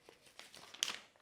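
Paper crinkles and rustles softly as it is folded in half for a paper mache crab claw, a few faint crisp crackles building to a brief louder crunch near the end.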